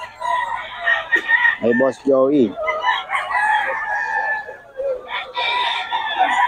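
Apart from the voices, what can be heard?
roosters crowing at a chicken market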